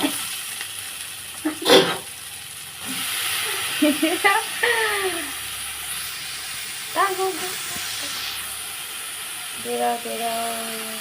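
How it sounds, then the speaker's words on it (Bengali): Chopped ash gourd tipped into hot oil with spices cooked down until the oil separates, giving a steady sizzle with a few short bursts and stirring scrapes, close by, with a voice talking over parts of it. "এরপর কেটে রাখা চাল কুমড়োগুলো দিয়ে দেবো।"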